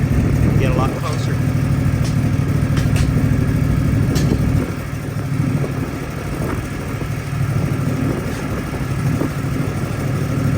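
A race motorcycle's engine rumbles steadily and loudly in the pits at Ridge Motorsports Park during a WMRRA/OMRRA race day, with other engine noise and some voices mixed in.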